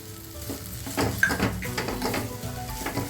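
Grated pumpkin cooking with jaggery in a pan for Maharashtrian bhoplyache gharge, giving a steady soft sizzle with repeated stirring scrapes and a few light utensil clinks, close and continuous with no talking.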